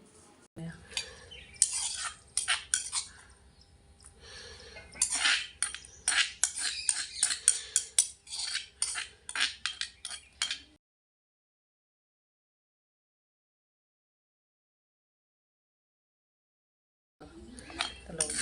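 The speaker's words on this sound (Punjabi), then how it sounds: "ਹੁਣ ਆਪਾਂ ਇੱਕ ਕੌਲੀ ਵਿੱਚ ਇਹਨੂੰ ਕੱਢ ਲਾਂਗੇ" Mint chutney is spooned out into a bowl, making a run of quick metallic clinks and scrapes of a spoon against the dish, fairly close. A long silent gap follows, and the clinking resumes briefly at the end.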